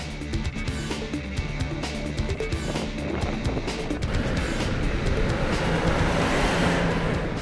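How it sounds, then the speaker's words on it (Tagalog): A vehicle dune bashing, driving fast over desert sand dunes in the Middle East: a continuous loud engine roar and rushing rumble with surging bursts, growing rougher and denser toward the end, with no talk. "Dune bashing ang tawag nila sa pagmamaneho sa disyerto."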